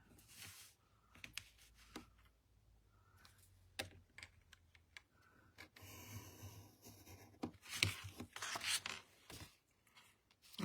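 A pencil marks crosses on paper while a pop-up card is made, with short scratchy strokes and taps spread across the quiet stretch and a louder, busier run of scraping near the end.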